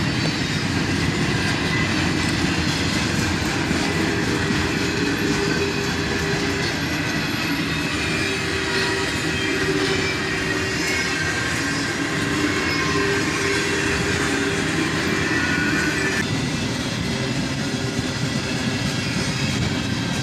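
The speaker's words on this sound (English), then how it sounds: "catch this special train with double KCS units and all military equipment on flatbeds" A long special train hauled by two KCS locomotives and carrying military trucks on flatbed cars rolls past steadily and loud throughout, with continuous rumble, wheel clatter and some squeal, no voices.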